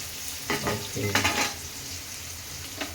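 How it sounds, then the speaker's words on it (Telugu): Ridge gourd peel fries crisp in a pan as a spatula stirs it, giving a few quick scraping clatters over a steady low sizzle, close and moderately loud with no talking. "మంచిగా ఇట్లా క్రిస్పీగా ఈ కలర్ వచ్చేంత వరకు వేయించుకోవాలి"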